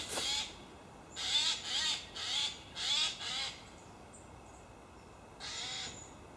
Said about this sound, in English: there's a noisy jay trying to...